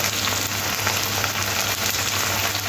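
Tomatoes and onions fry in a pan with black cumin and green chili, giving a loud, dense, unbroken sizzle close by with no talk.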